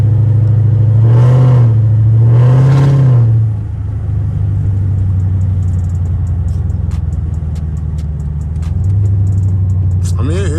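A Dodge Charger with an SRT-style setup on a snowy day revs twice in quick succession, each a loud rising and falling surge, then settles into a steady low rumble that swells briefly again before a short clatter at the end.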